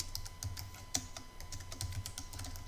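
Quiet, close keystrokes on a computer keyboard tap out in a steady run of typing, with one slightly louder key press partway through and a faint background hum.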